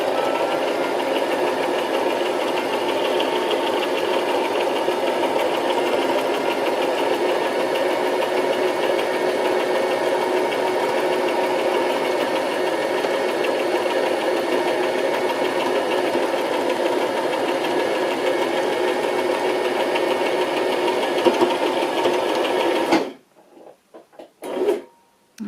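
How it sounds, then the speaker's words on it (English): A sewing machine stitches gold thread onto fabric scraps, running as a steady, continuous mechanical whir for most of the stretch before stopping abruptly near the end, followed by a few faint handling bumps. "So you can just target where you need the extra little bits of sewing to go."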